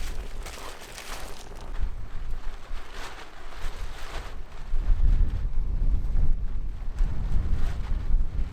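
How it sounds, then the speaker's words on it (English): Wind blows outdoors across an open site, a constant rough buffeting that roars against the microphone and swells louder in the second half, with no voices. "Why is there wind everywhere I go?"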